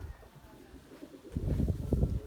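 Pigeons take off and coo in windy open air, a faint low murmur that swells into a busier burst of fluttering and cooing in the second half.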